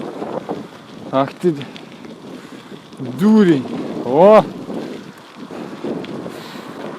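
Strong gusty wind buffeting the microphone while riding a bicycle on asphalt, a constant low rumble with louder bursts, under a man's muttered cursing and exclamations.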